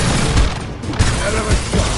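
Gunfire in the video game Mass Effect 2, a dense burst of booming, overlapping shots rolling continuously over a rumbling low end, loud and close.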